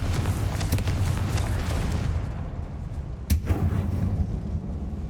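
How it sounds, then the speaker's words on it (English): A fiery Confringo spell blast in Hogwarts Legacy, a deep rumbling boom that rolls on and fades, followed by a sharper crack near the end, loud and with no talk over it. "มาเผาก่อน Confringo."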